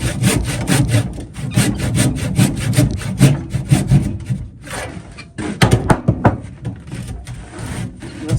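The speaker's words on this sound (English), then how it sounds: "Then hand saw, because the curvature of the blade, you won't get all the way in there." Hand saw cutting through timber during roof construction, a steady run of close, rhythmic rasping strokes with a short pause midway before the sawing resumes.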